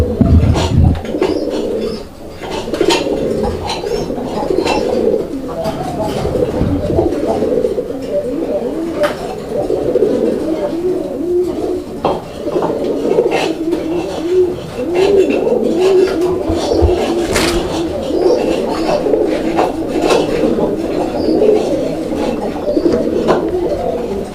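Domestic Raj-Gola pigeons coo in a steady, close chorus of soft throaty calls, with someone talking over them throughout.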